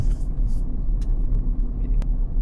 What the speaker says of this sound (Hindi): देखिए क्लच की मदद से धीरे धीरे गाड़ी को मोड़ूंगा